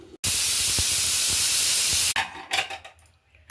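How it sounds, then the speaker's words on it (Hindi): Cumin seeds tempering in hot oil for rice in a home kitchen, a loud steady hiss and sizzle for about two seconds that cuts off abruptly, followed by quieter clattering of pots. "मैंने चावलों में लगाया है जीरे का तड़का"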